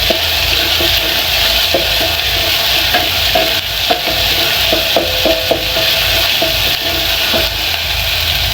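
Tomato paste stirred into a hot frying pan while cooking Indomie and sausage: a loud continuous sizzle with repeated scraping and knocking strokes of a utensil, close up.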